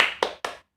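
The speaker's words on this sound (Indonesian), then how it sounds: "Ayo kita tepuk semangat dulu ya." Three crisp, close hand claps in a quick rhythmic pattern, each decaying briefly, part of a spirited classroom clapping routine in a remote school lesson.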